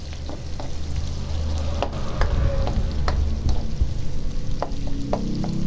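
Garlic and onions sauté in a hot pan, a steady close sizzle with scattered clicks and scrapes of a utensil stirring the ingredients, no talking.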